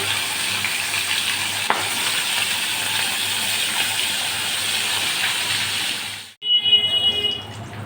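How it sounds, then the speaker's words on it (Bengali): Small chapila fish frying in hot oil in a pan, a loud, dense, continuous sizzle close up that cuts out abruptly near the end before a short burst of crackling resumes; no talk. "তেলটা গরম হয়ে গেছে, এবার আমি মাছগুলো দিয়ে দিচ্ছি।"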